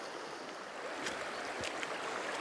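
A small stream, a wee burn, pours into a dark Scottish river, giving a steady close rush of flowing water with a few soft splashes rising out of the constant wash.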